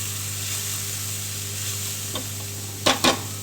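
Quinoa fries in a pan with a steady close sizzle over a low hum, and a few quick spatula scrapes and clacks come near the end.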